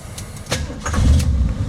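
A 1932 Ford Tudor sedan hot rod fitted with a 289 V8 fires up: a brief crank, then the engine catches and settles into a loud, close rumble.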